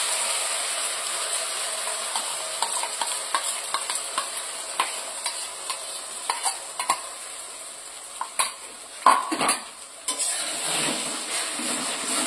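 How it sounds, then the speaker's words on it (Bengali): Egg and green pea mixture being stirred and fried in a kadai, with a continuous sizzle broken by irregular scraping and clinking strokes of the spoon, close and fairly loud with no talk. "এটাকে এবার নাড়াচাড়া করে একটু ভেজে নেব"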